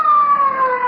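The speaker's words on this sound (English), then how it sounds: "a police car. It's coming here." Police car siren in a 1940s radio comedy, a loud, steady wailing tone heard up close with no talk over it.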